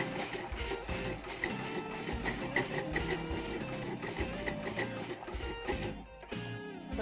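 A food processor mincing garlic and red onion, running continuously with a whirring motor and chopping rattle, fairly steady with a brief dip near the end.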